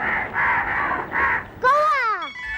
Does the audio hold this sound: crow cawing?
yes